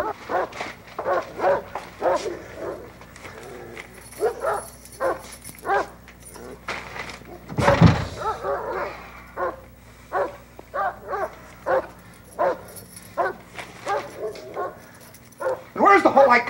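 Dogs bark and yip repeatedly in an agitated rhythm, close and loud, with a whimper among the barks, while people speak over them.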